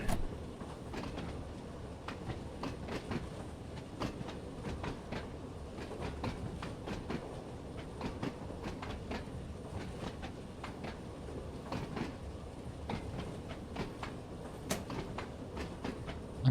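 A train on the Island Line in Train Sim World 2 rolls along steadily, with a low rumbling drone and regular clicking wheel beats over rail joints, moderately quiet and unbroken by talk.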